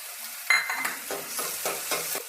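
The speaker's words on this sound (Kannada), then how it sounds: "ಈರುಳ್ಳಿ ಅರ್ಧ ಫ್ರೈ ಆಗಿದೆ." Chopped onions and crushed garlic fry in a pan with a soft sizzle under a series of evenly spaced spatula strokes, about five or six sweeps in a row, fairly quiet and close, with no speech.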